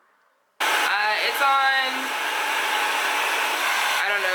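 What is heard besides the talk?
blow dryer running on high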